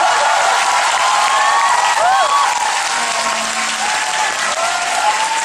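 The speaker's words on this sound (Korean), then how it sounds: "아, 박수로!" A concert audience at a fan event claps loudly and steadily, with scattered whoops and high cheers rising over the continuous applause.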